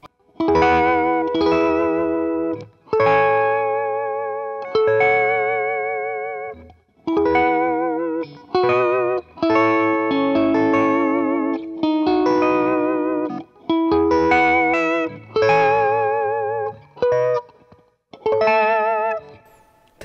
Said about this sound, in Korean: 이 기타는 이쪽 소리가 진짜 예쁘구나.